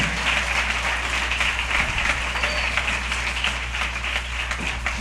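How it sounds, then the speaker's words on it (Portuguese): A church congregation applauds in praise, a fairly faint, steady wash of clapping from many hands, continuous and somewhat distant over a low hum. "você pode aplaudir o Senhor pela vida dessa igreja?"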